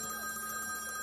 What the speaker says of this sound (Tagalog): Nagre-ring. Alam mo, telepono.